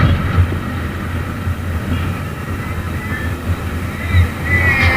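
A KYMCO Like 125 scooter with CVT automatic transmission, heard while riding at speed: a steady low engine drone under heavy wind rush, continuous throughout with slight swells, no clear speech.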